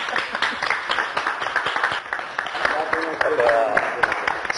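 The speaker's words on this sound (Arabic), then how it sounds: "اعطونا تصفيقة على نور الدين الجزائري." An audience claps and cheers for Algerian artist Nour eddine Dziri at a hidden-camera studio show, steady scattered applause mixed with voices throughout.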